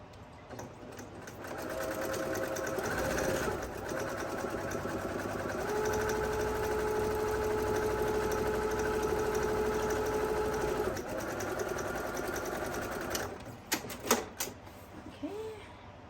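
A sewing machine stitches the bottom seam of a large flat-bottom fabric tote with a 2.5 mm stitch length. It runs in a steady, close whir for most of the stretch, then stops, followed by a few sharp clicks and handling noises.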